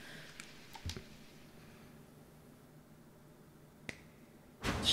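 A sharp finger snap from Hollow Knight, a couple of crisp clicks near the start over a quiet ambient game backdrop, followed by a rising burst of sound at the end.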